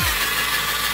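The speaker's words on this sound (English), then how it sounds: "You might need both hands to hold the drill, right?" A drill spins a Mothers polishing power cone against a car wheel rim, giving a steady, close whirring hiss with no break across the clip.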